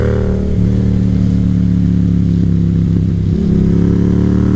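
A Yamaha FZ-07 motorcycle accelerating hard, its loud, close engine drone climbing steadily in pitch with a couple of brief dips where it shifts gear, running continuously with no talking.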